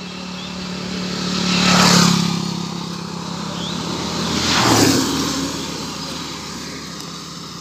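Traffic on the City Bypass road in Khulna: two vehicles swell past one after another over steady road rumble, each rising and fading as it goes by.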